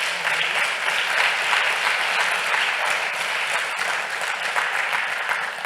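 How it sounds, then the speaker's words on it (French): Dense, sustained applause from a colloquium audience greeting a panelist named Jacques, a full roomful of clapping blending into a steady roar at fairly high level. "Alors, une belle main d'applaudissements pour Jacques."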